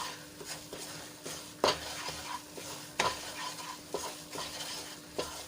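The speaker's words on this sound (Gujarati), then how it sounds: "તો આ રીતે હલાવીને આપણે દૂધ બાળી લેવાનું છે" A spoon scrapes and stirs repeatedly through milk cooking down with gram flour in a pan over a soft sizzle, with several sharp clanks at an uneven rhythm, close by.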